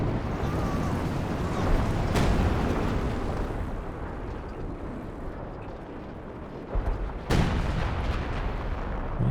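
152mm howitzer fire in Company of Heroes 2, heavy booms landing within a continuous rumble of battle, with sharp blasts near the start and later, loud and close.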